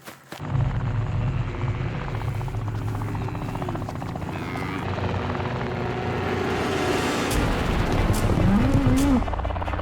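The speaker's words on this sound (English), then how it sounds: "the choppers are in the air as soon as the sun rises" Helicopter rotors thump and whine steadily at close range over a cattle station at sunrise, a constant engine drone that swells slightly louder toward the end.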